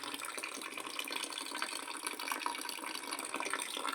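Steady trickling and splashing of water running out of a small hole in a can in a continuous stream, close by, with no voices.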